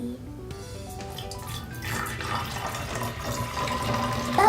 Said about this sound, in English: Next up, we're gonna pour the water.